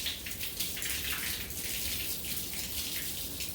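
Water sprayed from a hose wets down a concrete driveway before pressure washing, giving a steady hiss and patter of spray hitting the ground at moderate distance with no talking.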